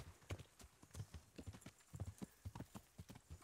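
A horse galloping at full speed in the video game Kingdom Come: Deliverance, its rapid, rhythmic hoofbeats pounding close and clear in a steady clip-clop with no talking.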